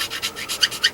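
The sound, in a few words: rat tail file shaping Revell Camaro model fender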